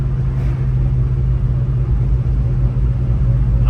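Steady low engine rumble and road noise inside a 1967 Impala out on a test drive, smooth and continuous at a constant cruising pace with no voices.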